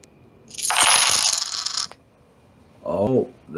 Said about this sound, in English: that's the sound of a Cash App donation